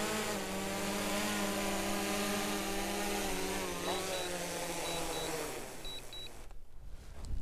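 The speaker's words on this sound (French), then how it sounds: "j'ai fait atterrir le drone" A small drone's electric motors whine steadily with harmonic tones that drift in pitch as it comes down to land on snowy avalanche terrain, then cut off abruptly, leaving quieter background and a few faint beeps.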